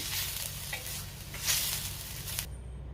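Onion frying in a pan for a spicy Maharashtrian chicken curry, a close, steady sizzle broken by a few scraping stirs of a spatula, ending abruptly.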